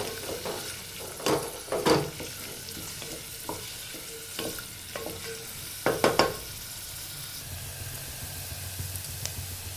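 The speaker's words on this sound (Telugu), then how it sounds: "ఒక 2-3 కరివేపాకు, తరిగిన ఉల్లిపాయలు, క్యారెట్ ముక్కలు, ఇట్లా వేసి కలపాలి బాగా." Curry leaves, chopped onions and carrot pieces stir-fried in a pan, a soft sizzle under scattered scraping stirs, some clustered in quick pairs.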